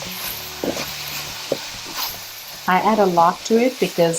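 Bitter gourd fries in masala in a pan, giving a soft, steady sizzle with a few stirring scrapes, while a person talks over the later part.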